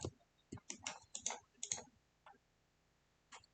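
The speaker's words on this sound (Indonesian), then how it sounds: "jadi kita ketik yang di sini password" A short burst of computer keyboard typing, entering a password: quick irregular key clicks close up, clustered in the first two seconds, then a pause and one last faint tap.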